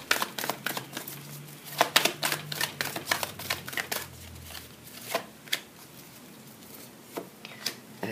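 Oracle cards are shuffled and drawn by hand, giving a dense run of quick papery flicks and riffles, close and fairly loud, with a few louder snaps between them.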